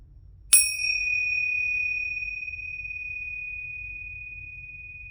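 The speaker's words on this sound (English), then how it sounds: "I'm going to use my tincture bells here to clear any negativity from the cards." Tingsha bells struck once over tarot cards, giving a single bright metallic ding that rings on with a long pure sustain, loud and close against faint background hum.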